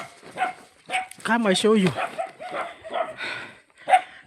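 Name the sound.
dogs barking on a farm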